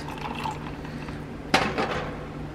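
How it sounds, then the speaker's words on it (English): Hot water pours over ice into a venti plastic cup, a steady liquid wash with a sharp crackle and clink of ice as the stream hits, then continuing fizzing and settling. "I'm gonna take half hot water, pour it over the ice."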